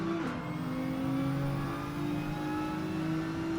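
Nissan GT-R engine in a racing video game holding a steady, sustained whirring drone at high revs, close and continuous with slight pitch shifts throughout.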